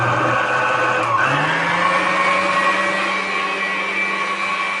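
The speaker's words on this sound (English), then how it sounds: "It took about 6 minutes in the microwave on defrost" A kitchen microwave runs on defrost while melting chocolate, making a loud, steady mechanical hum and whir with a brief shift in pitch near one second, close by and without talking.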